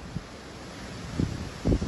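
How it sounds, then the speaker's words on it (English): Wind rumbles and buffets the microphone in low gusts outdoors during a storm, swelling twice toward the end, with no voices. "It is windy"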